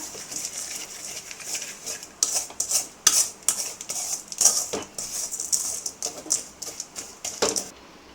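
Sugar being stirred as it melts for coco mittai candy, a series of irregular scraping and rasping strokes of a spoon against the pan, fairly close and quiet between strokes.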